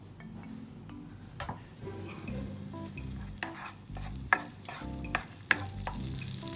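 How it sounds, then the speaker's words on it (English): Unsalted butter melts in a frying pan on the stove with a low steady sizzle, broken by a few sharp clicks and utensil taps close by. "keep the frying pan on the stove, add unsalted butter"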